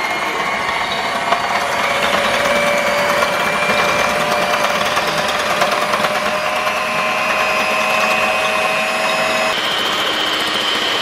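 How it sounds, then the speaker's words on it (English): An electric hand mixer whisks whipped coffee in a bowl, a steady, loud, high-pitched motor whine that runs without a break for the whole stretch, with no talking. "So I'm going to use my hand mixer"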